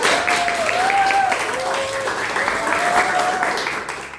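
An audience at a school teaching-video competition event claps in steady, continuous applause, with a voice speaking over it.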